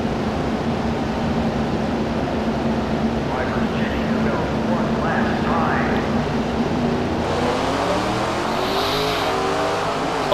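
Race car engines roar and rev steadily in SRX: The Game on hard difficulty before a 100-lap feature race, a dense continuous drone with pitch rising near the end and someone talking over it.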